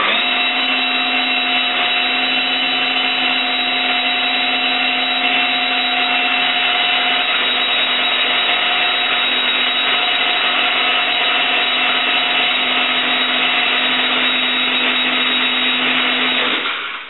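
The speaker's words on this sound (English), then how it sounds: "I'm just going to run the drill." A power drill spins wire around chain maille mandrel rods, a loud continuous motor whir with a steady hum that runs unbroken for the whole stretch before stopping at the end.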